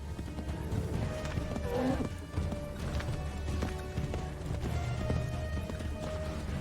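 Rapid clip-clop of a galloping horse's hooves in Assassin's Creed III, steady and close, running continuously with an occasional snort, no talking over it.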